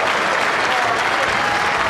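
A crowd at the Weber Cup bowling event claps loudly and steadily for a strike, a dense unbroken wash of applause with faint voices mixed in.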